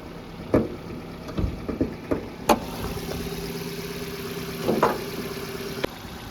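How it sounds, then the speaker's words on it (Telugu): A 2013 Hyundai i10 car idles with its bonnet open, a quiet, steady engine hum broken by a few sharp clicks and knocks. "సో నేను ఇప్పుడైతే ఇంజన్ అయితే స్టార్ట్ చేస్తున్నా, బానెట్ ఓపెన్ చేస్తున్నా. సో మీరు ఇంజన్ సౌండ్ వినొచ్చు."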